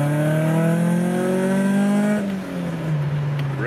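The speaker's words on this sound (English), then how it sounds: "Revs nice and clean." A Nissan Gazelle S12 engine revs up loudly with rising tones, holds, then drops back as the revs fall and settle, close and steady throughout.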